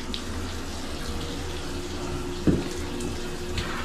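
Hot water runs steadily from a tap during sewer drain clog work, a close, even gush with a brief clunk partway through and no talk.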